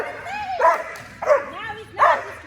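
A dog barks in three short, bright bursts, roughly evenly spaced and close by, during agility training play.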